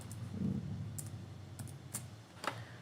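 A handful of quiet, separate key clicks as a password is typed on a computer keyboard, spaced unevenly over a low background hum.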